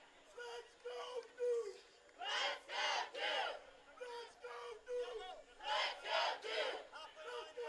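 A college soccer crowd at Koskinen Stadium chants in repeated rhythmic bursts during Boston College at Duke, the rising shouts pulsing every second or so, with a commentator's voice between them.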